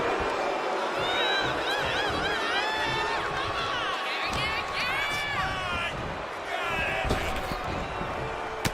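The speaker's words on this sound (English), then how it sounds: "And Khali is firing up the crowd here." An arena crowd in the WWE 2K25 wrestling video game roars and cheers steadily under a commentator's voice, with sharp thuds and slams cutting through now and then.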